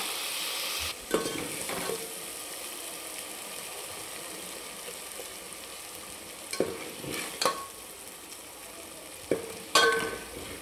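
Ground masala for a village-style mutton curry sizzles steadily in oil as it is sautéed, with a few sharper scrapes and stirring clatters breaking through the constant frying hiss.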